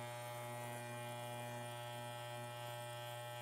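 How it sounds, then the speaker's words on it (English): An electric trimmer buzzes steadily as it trims the fur of a puppet, a close, constant motor hum with a strong fundamental tone and no one speaking. "Use my trimmer."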